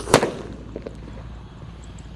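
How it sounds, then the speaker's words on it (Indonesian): A green radiator firecracker goes off buried in the ground, giving one sharp, loud muffled bang at the start that quickly fades into a quiet outdoor background. "selanjutnya yang akan kita nyalakan di sini ada mercon radiator yang warna hijau guys. Kita lihat reaksinya. Kita nyalakan dan kita masukkan."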